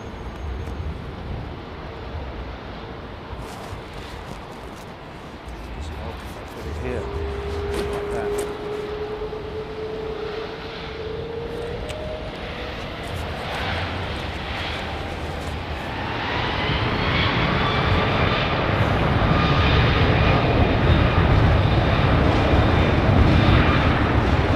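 A fixed-wing airplane departs runway 09, its engine roar building from a moderate hum to a loud, sustained, rising drone as it climbs away, with no talking.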